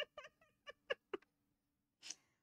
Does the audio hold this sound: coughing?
no